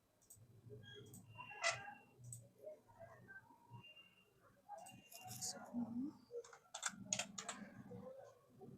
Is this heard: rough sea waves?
no